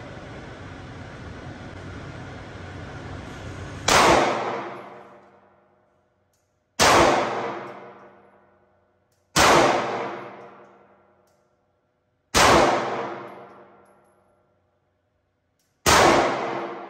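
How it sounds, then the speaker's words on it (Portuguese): Five sharp, loud 9mm pistol gunshots on a shooting range, spaced a few seconds apart, each ringing out with a long decaying echo, following a steady background rumble at the start. "10 disparos."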